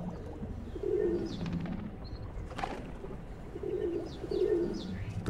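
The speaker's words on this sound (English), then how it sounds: "So after a few minutes, the thirsty pigeons head back to the empty beach once more." Pigeons cooing on an empty river beach, several soft low coos in short bursts, fairly near, over a muffled outdoor background with faint chirps.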